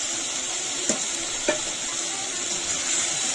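Ground masala paste for chicken sukka, mixed with tomato purée, sizzles in hot oil in a pan. A steady, soft frying hiss runs throughout, broken by two light scraping clicks of stirring.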